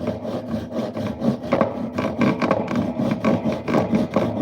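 Wood is rasped and scraped continuously while a channel is carved into a butcher block mallet for an inlay, the rough grinding strokes rising and falling in a steady rhythm.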